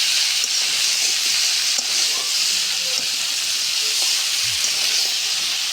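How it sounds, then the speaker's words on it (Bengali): Green beans with spices and mustard paste fry in a pan, giving a steady, loud sizzle and hiss from start to finish, with faint stirring scrapes under it. "ধীরে ধীরে কষে নেওয়া হচ্ছে মশলার সাথে।"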